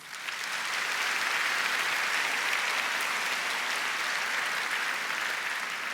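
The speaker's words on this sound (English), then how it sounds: "If we can give them a round of applause." Sustained, even applause fills a large hall at the Peoria Unified 2019 opening of schools event as staff welcome the district leadership team, steady and thick throughout with no speech.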